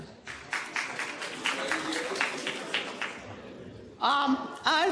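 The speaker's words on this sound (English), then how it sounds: "So big round of applause to Omar" Audience applause for a panelist at a youth investor event in Pakistan, a dense wash of clapping with voices mixed through it, cut off near the end by a louder voice speaking over the room.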